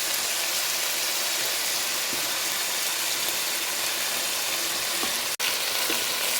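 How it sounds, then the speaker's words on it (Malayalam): Chicken pieces frying in hot oil, a loud, steady, unbroken sizzle close up with faint clinks, cut by one brief dropout near the end. "ഓരോ പീസായിട്ടൊന്ന് ഫ്രൈ ചെയ്തെടുക്കാം."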